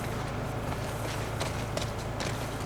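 A horse gallops in The Last of Us Part II, a steady rhythmic run of hoofbeats over a dense, continuous game soundscape with no clear speech.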